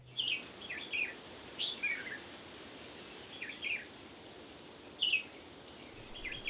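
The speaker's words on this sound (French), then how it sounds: "Le chant des oiseaux" Birds sing on the Île aux Aigrettes nature reserve, a small island off Mauritius: short bright chirps and whistled phrases come in scattered bursts every second or so over a quiet, faintly rustling background.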